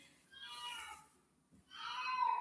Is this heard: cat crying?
yes